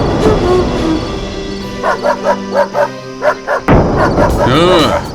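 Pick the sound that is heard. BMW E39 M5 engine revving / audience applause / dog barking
dog barking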